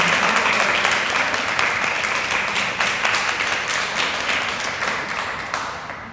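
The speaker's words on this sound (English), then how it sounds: "Let's give him a round of applause" A crowd at a youth and college affairs inauguration ceremony claps loudly and steadily, with dense applause filling the room and fading slightly at the end.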